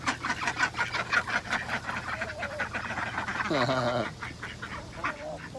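Ducks quack close by in a busy, overlapping chorus, with a louder, drawn-out honking call partway through.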